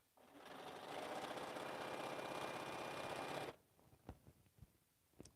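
A sewing machine runs steadily through a stack of quilting fabric for about three seconds, close and loud, then stops, followed by a few soft clicks and handling sounds.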